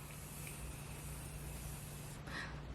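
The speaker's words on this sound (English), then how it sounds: "It's like hairspray and it just sprays on." Morphe setting spray misted from a pump bottle in a makeup routine, a soft steady hiss near the mic that brightens briefly toward the end, with no talking over it.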